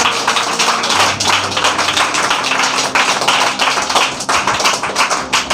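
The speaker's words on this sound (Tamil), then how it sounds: "கைகளை தட்டுங்களே." A church congregation at a Sunday service claps together in a steady, dense, loud patter that runs the whole time, with no voices over it.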